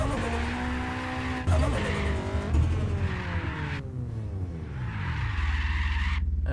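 Car tires skid and squeal on pavement in the video game Apex Point, with a revving engine whose pitch sweeps up and down across the slide, loud and close throughout.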